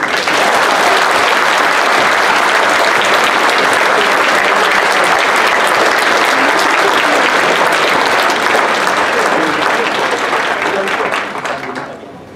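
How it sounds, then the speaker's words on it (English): Loud, sustained applause from a large audience at the Taste of Nepal 2017 event, steady dense clapping for about eleven seconds before tapering off at the end. "Please help me here to give a huge round of applause for making this event a grand success."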